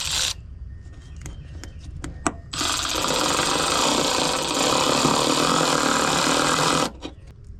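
A power drill drives self-tapping screws into the metal tub of a Jeep Rubicon, with a few sharp taps and clicks, then a long steady whirring run that stops abruptly, close and loud.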